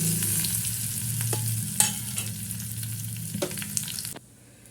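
Chillies and curry leaves sizzle and crackle steadily in hot oil for tempering beetroot pachadi, with a few sharp pops and stirring scrapes before it suddenly cuts quieter at the end.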